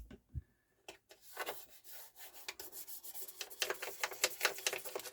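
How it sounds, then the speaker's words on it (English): Brisk, repeated scrubbing on a Hitachi HT-1 turntable during cleaning, a quiet scratchy rubbing that comes in short strokes and grows busier and more rhythmic toward the end, close to the listener. "You want to get in there, you want to scrub"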